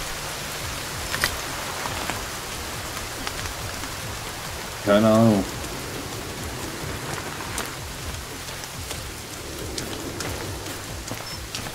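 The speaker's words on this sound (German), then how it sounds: "Jetzt fängt es an zu regnen, danke." Steady rain pours down in the survival video game Sons of the Forest, a constant hiss that fills the background while a voice speaks briefly near the middle.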